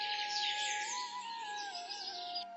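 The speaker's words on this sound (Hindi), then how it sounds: "पक्षियों की आवाजें फिर सुनाई देने लगी।" Faint, continuous morning birdsong with high chirps and trills over a steady background tone, fairly distant and uninterrupted.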